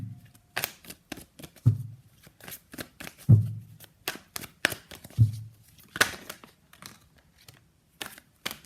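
A deck of tarot cards is shuffled close up in quick, repeated riffling bursts, with several soft thumps as the cards settle between them. No one speaks.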